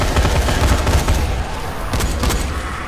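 Loud, dense automatic gunfire in the zombie game Dying Light, a continuous rattling barrage of close shots with no pause.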